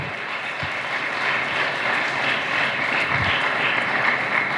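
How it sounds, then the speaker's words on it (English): Steady applause from a crowd at a school commencement ceremony, a dense, even wash of clapping that holds at the same level throughout. "Please give them a warm round of applause despite their absence here today."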